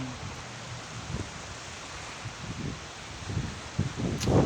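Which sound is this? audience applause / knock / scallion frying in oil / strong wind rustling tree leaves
strong wind rustling tree leaves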